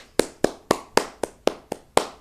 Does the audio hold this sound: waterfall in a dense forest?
no